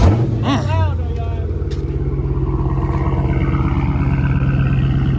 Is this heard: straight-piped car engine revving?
yes